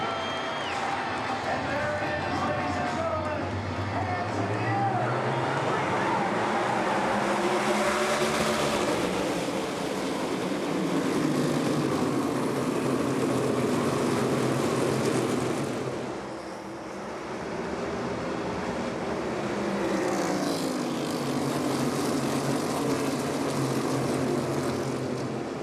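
NASCAR Cup Series stock cars racing at North Wilkesboro Speedway roar past in waves, engines swelling loud and fading, with a brief dip midway, under a race commentator's continuous voice.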